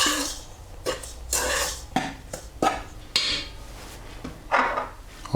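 Sugar being mixed into flour in a bowl for hot cross bun dough makes a series of knocks and scraping clatters of a utensil against the bowl, spaced irregularly and fairly close.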